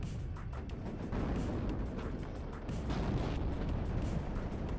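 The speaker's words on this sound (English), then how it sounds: "Leo 2A3 still getting hit by those cannons with their missiles." Cannon and missile fire strikes Leopard 2A3 tanks in a WARNO battle: a dense, fairly faint rumble of distant booms and blasts running continuously, with repeated muffled impacts.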